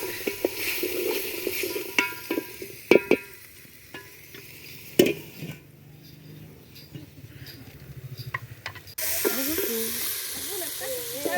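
Carrots and tomatoes cook in a pan in a Kenyan village kitchen, giving a steady soft sizzle with scattered stirring clinks and a louder hiss near the end.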